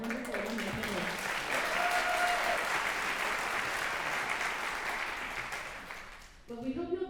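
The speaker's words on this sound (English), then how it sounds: "How about another round of applause for Malika and our wonderful alumni panelist" A university convocation audience applauds alumni panelists, a steady, full round of clapping lasting several seconds before tapering off, with a voice speaking as it ends.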